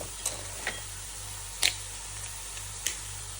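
Fried appalam being broken up in a pan with sautéed tomatoes, a few sharp, isolated crisp snaps spaced apart over a low, steady background hum.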